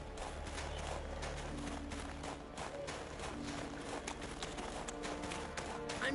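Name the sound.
horse galloping in The Witcher 3 video game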